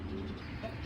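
A big female Giribaz pigeon with a khaira neck gives a soft, low, throaty coo, brief and faint and close by.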